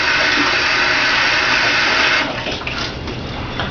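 Running water pours steadily from a tap as hands are wetted while making pizza, a loud close gush that changes tone partway as the hands move under the stream.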